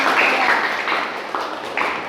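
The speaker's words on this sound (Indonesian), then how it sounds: "Aplaus dulu buat kita." Applause from a small group in a classroom, a steady dense patter of hand claps lasting about two seconds, moderately loud and close.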